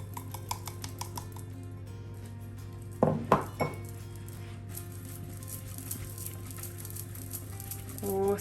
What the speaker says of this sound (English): And then we mix it together.